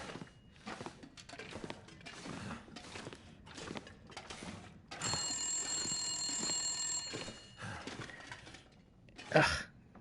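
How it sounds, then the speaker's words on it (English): A telephone rings inside a building in the video game The Long Dark. One sustained metallic ring sits mid-clip and a short burst comes near the end, over quiet footsteps and faint ambient noise. "There's like no directional quality to the phone."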